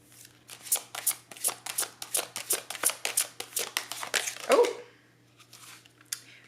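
A tarot deck shuffled close up, a rapid run of papery card riffles and slaps in a steady rhythm, ending in a louder rustle before a brief final flutter.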